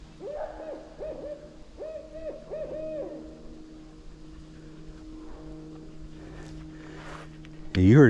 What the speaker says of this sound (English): There's an owl up here hooting away.